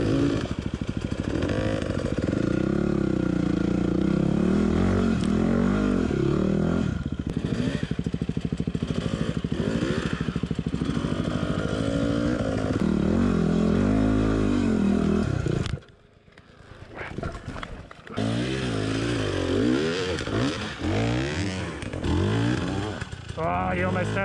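A KTM 300EXC TPI two-stroke enduro motorcycle ridden on hard forest trails in Ourimbah State Forest, NSW, giving a loud, continuous revving engine drone that rises and falls, briefly dropping away near the end before returning.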